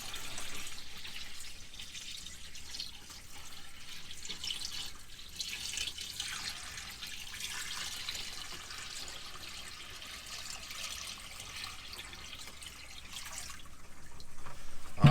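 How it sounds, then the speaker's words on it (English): Water drains steadily through the sink of a NuCamp 400 camper into its gray tank, a continuous soft trickling wash that holds even for the whole stretch, with no talking. "5 gallons of water now going into the gray tank"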